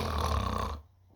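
A voice imitating snoring with one long, rumbling, nasal snore lasting under a second, close and fairly loud, then cutting off into near silence.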